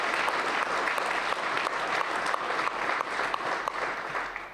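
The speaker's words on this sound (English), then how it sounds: "Let's give all of these sponsors a big round of applause." An audience at a chamber of commerce mayoral candidate forum applauds the event sponsors, a steady dense clapping that holds loud and unbroken throughout, with faint crowd murmur underneath.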